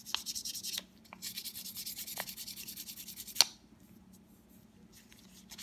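Steady back-and-forth rubbing of fine sandpaper on the wooden stock of a Smith & Wesson revolver, soft and close, with rhythmic strokes for about three seconds, a brief knock, then quieter intermittent sanding.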